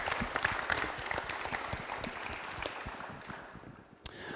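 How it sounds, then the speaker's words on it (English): A crowd at a live show applauds five startups steadily, dense clapping filling the room for several seconds before tapering off near the end. "Maybe an applause for these 5 startups."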